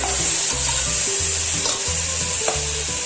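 Ingredients for a mutton vellai kurma sauté in a pan with a loud, continuous sizzle and rhythmic stirring strokes scraping across the metal, close and without speech.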